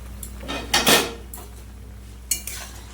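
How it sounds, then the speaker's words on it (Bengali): A metal lid comes off a cooking pan while okra is cooked in mustard paste, giving a couple of close clattering knocks followed by a softer clink, with no talk. "এবার ঢাকা দিয়ে দেবো ঢাকাটা খুলে নেব"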